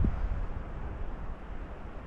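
Strong wind buffets the microphone with a constant low rumbling roar, no voices, just gusty noise.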